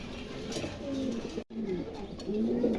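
Several pigeons coo softly and repeatedly close by, low throaty calls overlapping, with a brief sudden dropout midway.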